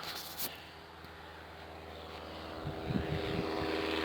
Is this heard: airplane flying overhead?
yes